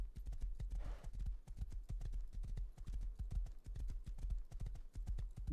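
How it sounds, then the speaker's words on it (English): A ridden horse's hooves clatter in a quick, even clip-clop in a video game, close and continuous throughout, with no talk. "Horses are always fun to ride,"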